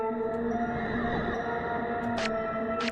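A reversed dubstep sample soaked in heavy reverb swells as a sustained, droning tonal wash with sweeping pitch glides and a couple of brief airy bursts, steady and loud throughout.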